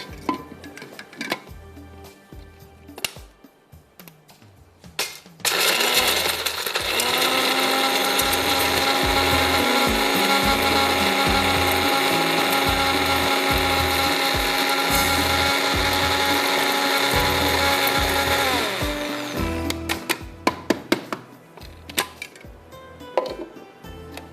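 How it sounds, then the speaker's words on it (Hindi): An electric spice grinder whirs at high speed through poppy seeds, cumin and cardamom, a loud steady motor drone for about fourteen seconds, framed by clattering and knocks as the jar is handled before and after. "ये मैंने खसखस, इसके साथ ज़ीरा और इलायची, इसको मैं पीस लेती हूँ"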